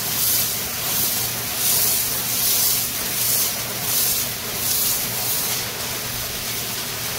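A power sprayer blasts water across a pig pen, a dense continuous hiss of spray that swells and eases slightly in pulses, loud and close throughout.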